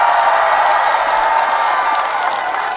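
A large audience claps steadily at an outdoor open-air concert in Iksan, dense sustained applause filling the space for the whole stretch with no voices over it.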